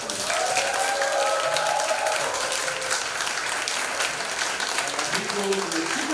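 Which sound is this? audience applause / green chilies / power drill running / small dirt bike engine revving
audience applause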